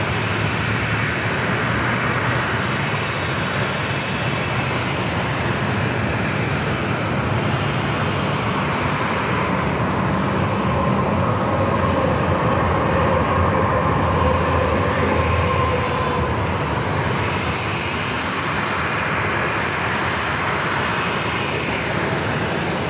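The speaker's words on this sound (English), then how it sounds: "Southwest 3366, runway 27, close to takeoff" A Southwest airliner roaring down San Diego's runway 27 on takeoff, a loud continuous jet-engine rush that holds steady and swells slightly, with no talk over it.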